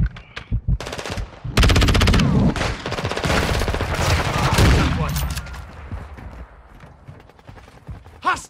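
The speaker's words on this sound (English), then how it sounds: "They're shooting at me." Loud gunfire in Call of Duty Modern Warfare 2, with dense bursts of rapid automatic fire that build to a sustained roar in the middle, then fade into scattered shots and quieter battlefield noise.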